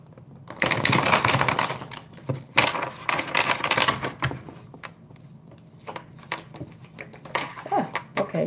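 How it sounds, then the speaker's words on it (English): Tarot cards being shuffled in quick riffling bursts, close up, with brief pauses between flurries of papery flicking. "Final shuffle."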